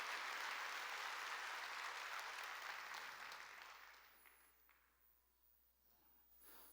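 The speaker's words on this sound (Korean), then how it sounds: "박수." A church congregation applauds with steady, broad clapping that slowly thins out and fades, followed by a quieter room tone.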